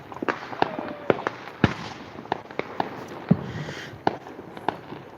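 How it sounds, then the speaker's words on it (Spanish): Distant New Year fireworks bursting irregularly, a dozen or so sharp pops and booms scattered across the stretch with a faint crackle between them and no talking. "ya desde lo lejos aún siguen quemando las bombas de colores"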